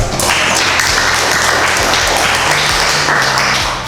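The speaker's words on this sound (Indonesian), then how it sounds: "Kita beri aplaus kepada kelompok 2" Audience applause for a presenting group at a teacher performance assessment session in a classroom, a dense, steady clapping that stays loud and continuous for the full four seconds with no talk over it.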